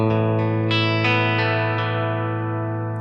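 A guitar played through the clean setting of a Red Panda Context reverb pedal rings out as a series of plucked notes, each decaying smoothly with a short, dry tail, close and alone.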